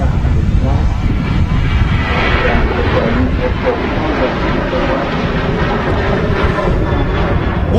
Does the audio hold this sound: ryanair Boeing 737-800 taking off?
yes